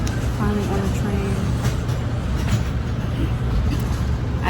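Steady low rumble and broadband roar of a New York subway train riding, close and continuous, with faint voices in the car beneath the noise.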